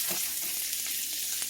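Sausage browns in a pan with a close, steady sizzle and a few soft stirring scrapes over a brief moment.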